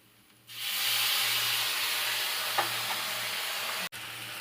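Chow mein with chopped fried egg, soy sauce and chili sauce hits a hot pan in a sudden loud, steady sizzle, with a brief scrape of stirring and a momentary break near the end.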